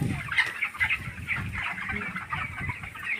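Chickens on a poultry farm with automatic waterers and feed sacks cluck and murmur close by, a busy overlapping chorus of short calls over a soft barn background.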